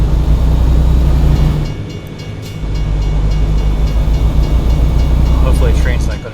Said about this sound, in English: Hopefully a train's not going to hit me.